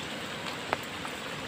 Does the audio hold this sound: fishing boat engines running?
no